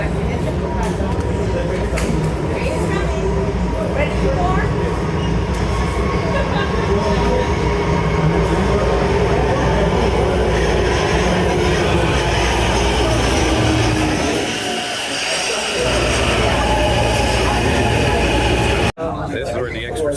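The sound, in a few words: Los Angeles Metro D Line subway train riding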